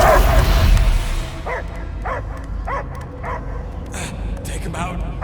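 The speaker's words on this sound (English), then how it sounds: "I hear only barking." Dogs bark and yip in a Guardians of the Galaxy video game, a run of short repeated barks at moderate distance over a steady ambient rumble, with speech audible underneath.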